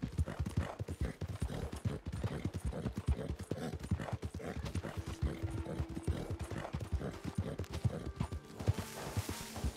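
Horse hooves clip-clopping in a steady rhythmic gallop while riding through open countryside in Red Dead Redemption 2, close and continuous, with a brief neigh-like sound near the end.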